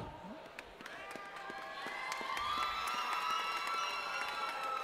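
Crowd noise rises at a white collar boxing event in Singapore as a bout is called up, with distant cheering and shouts building under someone talking over the hall, faint overall.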